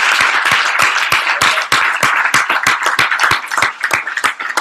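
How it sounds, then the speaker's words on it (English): An audience at a team event applauds, dense rapid clapping from many hands that stays strong and even throughout, with no voices on top. "I think you should give yourselves a round of applause for this team."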